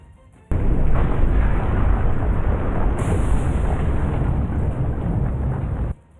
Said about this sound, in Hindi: धमाके होने लगे और गर्म लावा ज्वालामुखी से निकलकर नीचे की तरफ बहने लगा।